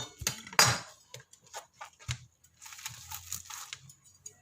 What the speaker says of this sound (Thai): หั่นไปเลยค่ะ